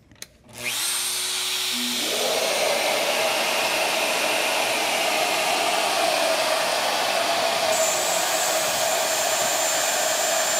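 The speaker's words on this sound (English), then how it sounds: "We'll just cut this down to 1/4 inch." Shaper Origin handheld router spinning up and cutting a wood workpiece a quarter inch deep, a sharp rising whine that settles into a loud, steady high-pitched roar.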